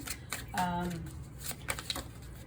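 Quick riffling of playing cards being shuffled, a few crisp bursts close by, with a voice speaking briefly underneath.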